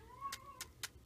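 A cat meows with a drawn-out wavering call, followed by quiet, sharp rustling or clicking bursts in a soft, close indoor setting.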